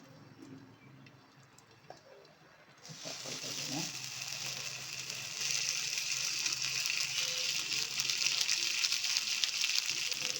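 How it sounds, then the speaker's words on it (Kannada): Marinated green-coloured fish hits hot oil: a quiet kitchen gives way to a sudden, loud, continuous sizzle that builds and crackles steadily, close by, with a few small taps before it starts. "ಈಗ ಎಣ್ಣೆ ಬಿಸಿಯಾಗಿದೆ ಈಗ ಫಿಶ್ ಫ್ರೈ ಮಾಡ್ಕೊಳ್ಳೋಣ"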